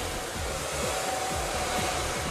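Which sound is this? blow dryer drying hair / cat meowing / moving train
blow dryer drying hair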